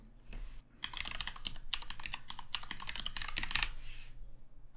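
Close, brisk typing on a computer keyboard as a name is entered, a dense run of rapid key clicks with a brief pause near the start, no talking over it.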